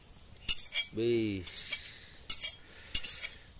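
Metal utensils clink and scrape against a pot while stirring tomato and cabbage on a beach, in a few sharp bursts, with a brief voice calling out partway through.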